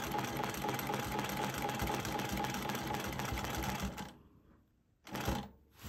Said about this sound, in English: So I'm gonna stitch in the ditch along here.